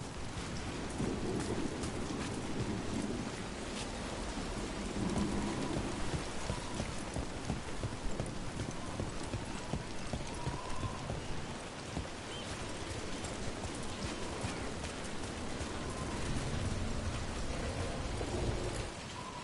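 Steady heavy rain in Dragon Age: The Veilguard pours throughout with deep rolling thunder rumbling underneath, a continuous stormy wash with no voices.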